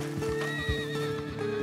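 A horse in the video game Red Dead Redemption 2 gives a loud, close whinny along with the clip-clop of its hooves, heard over a steady musical background.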